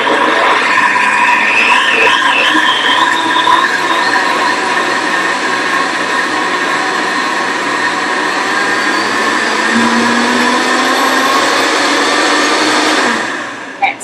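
A blender whirls frozen peaches in one loud, steady motor roar lasting most of the clip, the pitch shifting slightly as the fruit breaks down, then cutting off abruptly near the end.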